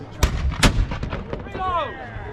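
Cannon fire during a pirate ship battle at a festival, two loud booming blasts close together followed by shouting voices and crowd noise.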